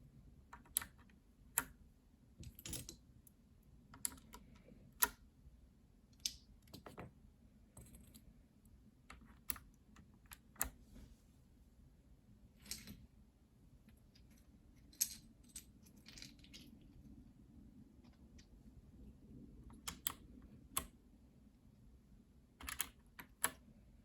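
Steady typing on a keyboard fitted with Kailh clicky clickbar BOX switches in white, pink, jade and navy, with sharp, crisp clicks arriving in irregular bursts over a quiet background.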